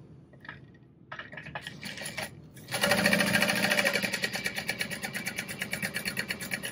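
A sewing machine stitches along the top and bottom edges of a backpack gusset, right sides together, for a Fortuna backpack; quiet handling at first, then a steady, close, continuous whirring run of rapid needle strokes.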